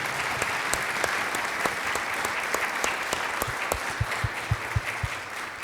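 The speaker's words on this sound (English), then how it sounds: "Let's give them a big round of applause." Rotary club meeting audience applauding, a steady room of clapping hands with individual claps standing out, lasting several seconds at moderate loudness and thinning toward the end.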